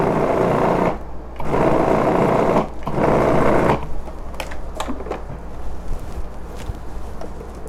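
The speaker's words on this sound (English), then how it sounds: "we're gonna spin it again, pulse it again, let that mix in nice" A food processor pulses chocolate vegan buttercream frosting in three loud whirring bursts, followed by quieter clicks and kitchen clatter.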